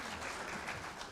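Conference audience applause for panelists at a regional policy discussion, a brief burst of dense clapping at moderate volume with no other sound.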